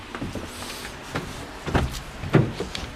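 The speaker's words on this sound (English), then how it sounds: "You can push this button here, and that just runs the driver's side door, sliding door." The power sliding door of a 2017 Toyota Sienna with a VMI Northstar wheelchair conversion runs with a motor whir, broken by several clunks and latch thumps that grow louder toward the end.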